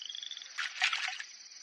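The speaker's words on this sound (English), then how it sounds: "You could start by catching that frog, and then eating it alive." A frog croaks close by in a rapid, pulsing trill that swells into a louder burst midway, then settles back to the steady chirring.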